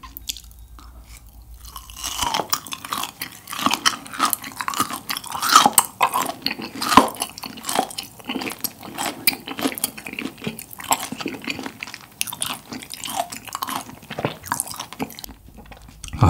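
Close, crisp chewing of grilled Iberico bellota pork with wasabi, its fat giving a firm, crunchy bite; steady wet mastication with sharp crackles throughout and no talking.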